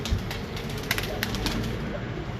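Breeder pigeons coo in a loft, soft low murmuring calls repeating near and far under a busy background of rustling and small knocks.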